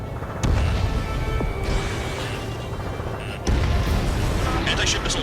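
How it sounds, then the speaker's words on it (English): Missile launch in the Ace Combat 7 combat flight game: loud, dense roaring rumble with booming surges that swell at the start and again midway, continuous over engine and battle noise. "Missile launched."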